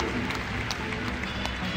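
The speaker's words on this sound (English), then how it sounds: "you'll notice you get a lovely round of applause as they come up" An audience applauds steadily as stage-show volunteers walk up, a soft, continuous patter of clapping heard from some distance without a clear start or finish.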